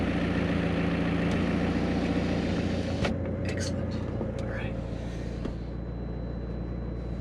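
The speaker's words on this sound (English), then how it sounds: "if we touch the button here, we can drop that and hear more of the engine noise" A McLaren 720S Spider idling with its rear screen lowered gives a steady low engine rumble close by; a person talks over it.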